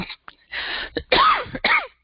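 Several harsh coughs and throat-clearing bursts, close and loud, separated by brief silences.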